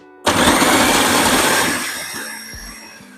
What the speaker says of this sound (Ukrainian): Перекладаємо наші гриби та цибулю у блендер і подрібнюємо.